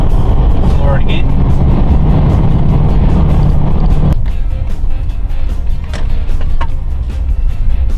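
Mitsubishi Triton with a 4D56 CRD turbo diesel pulls hard in fifth gear at full throttle on a road test, a loud steady engine drone with wind and road noise that drops abruptly halfway through as the load eases.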